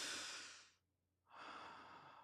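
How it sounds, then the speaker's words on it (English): One person breathes out a long, soft exhale, pauses for a silent beat, then draws a slow, airy breath in, close and quiet, with no words spoken. "Take a breath."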